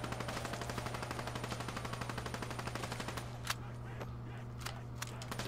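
Rapid machine gun fire in Black Ops 3 Zombies, a continuous fast rattle of shots that stops partway, leaving a few single pops and game sounds, quiet in level.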